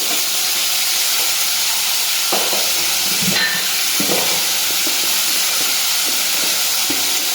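Kachori filling sautéing with spices in a pan, a loud, even sizzle and steamy hiss running throughout, with a few soft stirring knocks and scrapes partway through and no talking.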